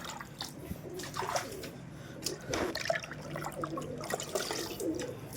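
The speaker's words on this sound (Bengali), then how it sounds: "এই যে সবাইকে জল দিয়ে দিলাম" Water is poured into drinking dishes for pigeons, a soft, uneven splashing and trickling close by with intermittent gurgles and drips.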